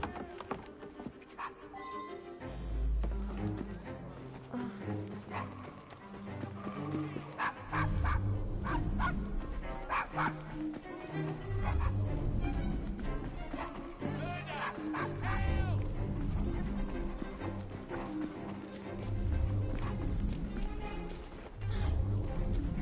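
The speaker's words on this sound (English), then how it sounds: "Shut up, dog!" A dog barks repeatedly in Assassin's Creed Syndicate, its yaps set among dense, continuous in-game music and ambience.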